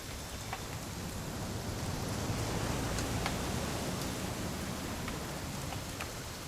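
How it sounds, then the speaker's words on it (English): Rain falls steadily in the What Remains of Edith Finch game, a dense, even patter with scattered sharper drops, constant throughout and with no one speaking. "It's gonna rain the whole weekend, isn't it?"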